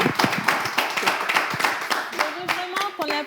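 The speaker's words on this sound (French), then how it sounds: "On va applaudir notre Miss Togo." Audience applauding Miss Togo at a live event, with a brisk patter of clapping hands that thins toward the end as a voice starts to speak over it.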